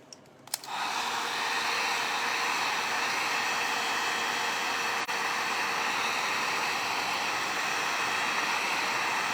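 A hair dryer blowing steadily to dry paint on a football board, switched on after a brief click and then running loud and constant as an unbroken airy whoosh.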